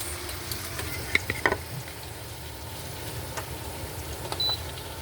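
Tomatoes fry in a pan with dried fish, giving a soft steady sizzle broken by a few sharp clinks and scrapes of stirring, close and without talk.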